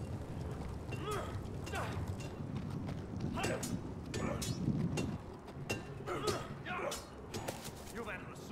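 Horse hooves clop in the Game of Thrones video game, a steady run of footfalls at moderate distance over a busy background.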